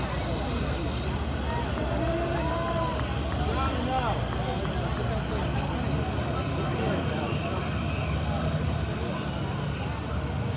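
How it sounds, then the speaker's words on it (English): A high-tread tractor rolls past in a Fourth of July parade at Rock Hall, its engine giving a steady, loud rumble through the whole stretch while crowd voices chatter over it. "Tractor."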